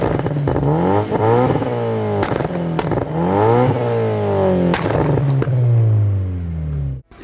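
A Scion FR-S with a completely catless Burke front pipe exhaust revs hard and loud up close, climbing and falling in repeated blips, with sharp cracks and pops between pulls before cutting off abruptly.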